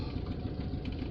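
Car engine idling steadily at close range, a low continuous rumble with slight uneven pulsing while the driver struggles to engage reverse gear.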